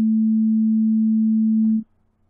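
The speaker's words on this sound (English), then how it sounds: "There we go, nice simple sine wave," A pure sine wave tone generated in a Max patch, a single steady low pitch held loud and unwavering for nearly two seconds before cutting off abruptly into near silence.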